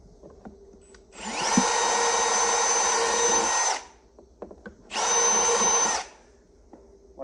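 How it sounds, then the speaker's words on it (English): A power drill bores a hole for a Can-Am fender flare. There are two separate bursts, a longer whine of about two and a half seconds and then a shorter one, with quiet handling noises between them. "And I'll actually go ahead and drill that one."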